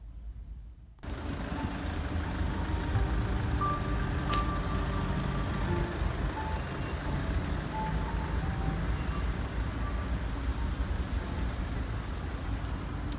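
Steady street traffic hums and rumbles near store car parks on a town walk, with passing vehicles and faint beeps over continuous road noise.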